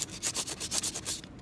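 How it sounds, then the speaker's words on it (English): Sandpaper rubs a wooden brace's back edge to clear a burr, a quick run of about eight rhythmic scratchy strokes, close and fairly loud, with no voices. "use some sandpaper to remove any wood burr on the back edge of it"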